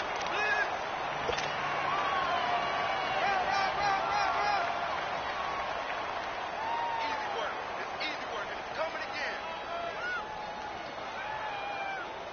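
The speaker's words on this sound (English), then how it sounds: "The crowd getting into it as we come up on a big 3rd down." A stadium crowd in a football video game swells with a continuous roar and cheering, with a commentator's voice speaking over it throughout.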